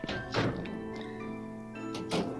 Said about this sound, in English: that is a loud door